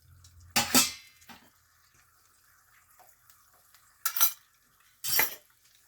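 Homemade aloe vera hand cream mixture being stirred in a pan, heard as a few separate scraping, clinking bursts of the utensil against the pot, with near silence between them.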